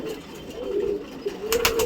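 Pigeons at a loft coo in soft, rolling calls close by, one overlapping another, with light fluttering noises toward the end.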